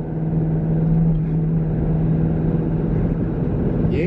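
A built Jeep Grand Cherokee Trackhawk at wide open throttle, a constant, loud, deep engine drone with a steady low hum, heard from the cabin while driving.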